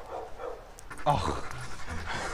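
Several dogs, one a Staffordshire, in a backyard: close, rapid panting with a brief whimper, under people talking.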